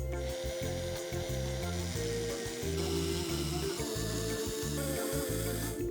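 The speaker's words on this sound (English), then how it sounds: "Then I used a Dremel to engrave the eye vents." A Dremel rotary tool engraves eye vents into a plastic lid, its high whining buzz running steadily and close, pitch and load shifting as the bit bites in and eases off in short repeated passes.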